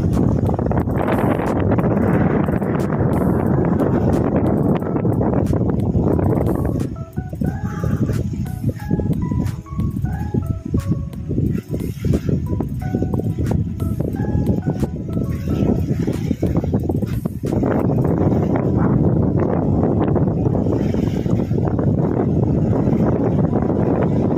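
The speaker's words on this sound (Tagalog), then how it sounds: "Lakas ang hangin." Strong gusting seaside wind on Manila Bay roars across the microphone outdoors, buffeting loudly, easing briefly in the middle before surging again.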